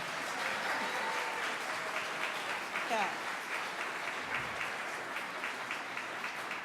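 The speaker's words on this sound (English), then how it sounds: "Give these guys a round of applause" A school assembly audience gives a sustained round of applause, a broad even clatter of many hands from start to finish, with a brief spoken word partway through.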